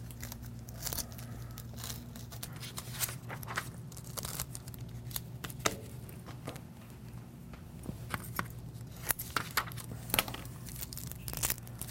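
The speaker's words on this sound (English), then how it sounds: "We're going to peel that off." Paper being peeled slowly off a drawing at an art demonstration, heard as soft, close crinkles and crackles with small tearing snaps scattered through a quiet room.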